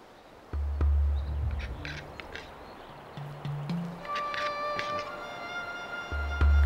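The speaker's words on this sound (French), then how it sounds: "Ce son étrange est celui d'un oiseau étrange. Le capercaillie, également appelé le grand tétras, ici à la parade devant quelques arbres morts" A western capercaillie displays near dead trees in European wilderness, giving a strange sequence of low knocks, pops and short clicks, followed by a thin, drawn-out tone, fairly faint against quiet outdoor ambience.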